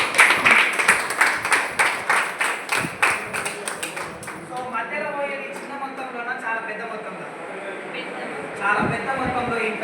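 An audience at an open public meeting in Jagtial claps in a strong rhythmic burst of applause for about four seconds, then trails off as a speaker talks over the room.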